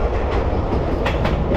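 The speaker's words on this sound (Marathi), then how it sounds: "आणि ह्या ब्रिजवरून वरून गाड्या जातात, खालून ट्रेन जाते." A train rolls along the tracks beneath a road bridge over the Godavari at Rajahmundry. It is loud and close, with a continuous rumble and rhythmic clickety-clack of wheels over rail joints and no voices.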